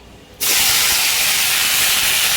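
Cut cauliflower dropped into hot mustard oil sets off a sudden, loud burst of hissing sizzle after a brief quiet moment, then a dense, steady roar of frying that continues to the end.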